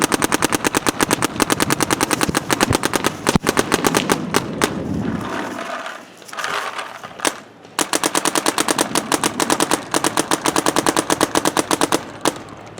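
An Etha 2 paintball gun with a Pal loader fires on ramp mode, loud rapid strings of shots in fast bursts, breaking off briefly midway with a quieter mechanical lull before the rapid firing resumes.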